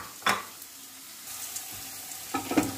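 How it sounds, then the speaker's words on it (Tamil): Ground masala paste sautéed and stirred in a pan for egg curry, a steady quiet sizzle broken by a couple of sharp spatula scrapes, with no voices. "ஸோ சூப்பராக இதையும் போட்டு நல்லா வதக்கிடுங்க."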